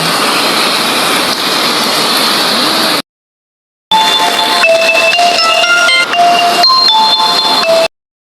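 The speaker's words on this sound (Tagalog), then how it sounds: "Lakas ang ulan." Heavy rain roars steadily and loudly, cuts out briefly, then returns with bright metallic pings and drips ringing over the downpour.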